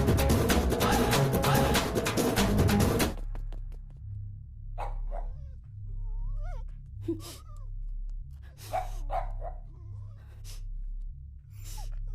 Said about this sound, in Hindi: जब भौंकने बोला था तब नहीं भौंका, अब भौंक रहा है।